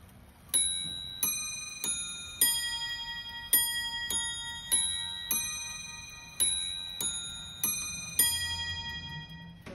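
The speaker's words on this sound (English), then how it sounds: "This clock has the Westminster chimes, so every quarter hour, you hear the chimes." Hermle Tellurium I clock playing Westminster chimes on four brass bells, about a dozen clear ringing strikes in a slow melodic sequence, each note ringing out and decaying, close and alone.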